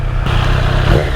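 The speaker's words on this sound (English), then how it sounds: "so that you can hear the exhaust note" A 2020 Triumph Street Triple motorcycle exhaust rumbles loudly up close, a brief throaty engine note with a slight rise in revs.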